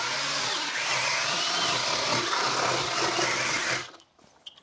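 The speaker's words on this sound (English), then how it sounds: "this is the first time prepping these beds with the tilther" A drill-powered tilther prepares garden beds in a greenhouse, a loud, steady whirring and grinding drone that runs for nearly four seconds and then cuts off, leaving faint rustles and a few small knocks.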